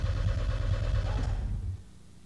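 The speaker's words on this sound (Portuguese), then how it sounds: "o que ocorre durante a partida com um motor frio" A cold car engine with electronic fuel injection churns and runs roughly with a low, pulsing rumble that fades out quickly after about a second and a half, leaving quiet background.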